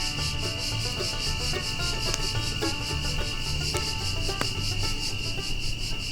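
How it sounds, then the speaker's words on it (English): Crickets and cicadas chirp steadily through a Midwest night, a dense, unbroken insect drone with high pulsing trills layered over a low background rumble and a few faint clicks. "the sound of not just crickets,"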